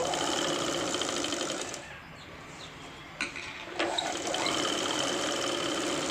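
A sewing machine stitches a Punjabi dress top in rapid mechanical bursts, pausing briefly in the middle with a couple of clicks before resuming its steady close whir.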